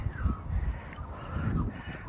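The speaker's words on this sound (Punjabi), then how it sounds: "ਪੰਛੀ ਦੀਆਂ ਆਵਾਜ਼ਾਂ ਸੁਣੋ" Birds calling outdoors on a trail in New Zealand, heard as faint, distant caws in scattered short calls over low background rumble.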